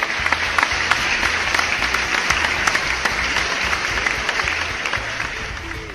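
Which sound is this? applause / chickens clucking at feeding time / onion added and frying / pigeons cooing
applause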